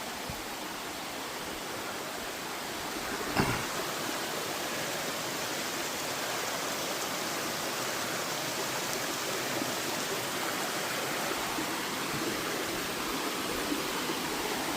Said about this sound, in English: There's a cool little waterfall trail over here.